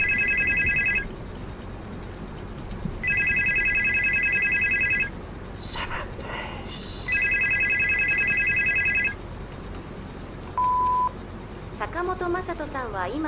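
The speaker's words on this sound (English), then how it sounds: "I can't pick up the phone." An in-game telephone in the video game Supernormal rings in repeated electronic bursts with pauses between them, accompanied by other brief game sound effects and a short beep.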